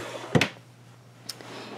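A drawer in a home craft room slides open with a short wooden thump and rattle, followed about a second later by a faint click, close by and with no talking.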